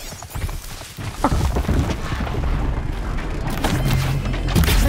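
Bow shots in Horizon Zero Dawn land as a few sharp, booming thuds over a busy game soundscape with ambient rumble, each impact punching through the steady background.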